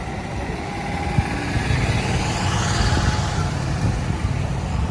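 A heavy diesel tractor engine, a Holland, idles steadily and close by, a continuous low rumble with slight chugging throughout.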